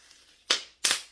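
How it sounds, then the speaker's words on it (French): Two sharp, loud pops from an air-filled snack bag being burst by hand, spaced about a third of a second apart, each a crisp bang with a short decay and no talking. "quand il y a les sachets comme ça, j'adore faire ça. J'adore claquer."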